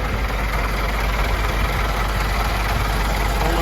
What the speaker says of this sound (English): I've already fired the engine up,